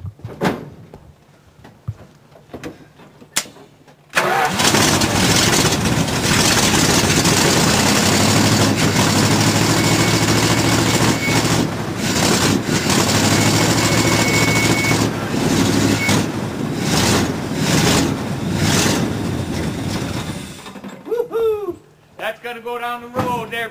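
Engine held a little above idle, a loud, steady low rumble running for about sixteen seconds after a few clunks, then dropping away, with someone talking briefly before and after.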